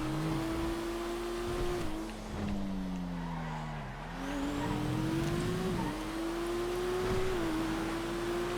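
Race cars in the GTA FiveM video game hold a steady high engine drone, with pitch dips and rises at gear changes and corners and brief tire scrubs, loud and continuous with no talk.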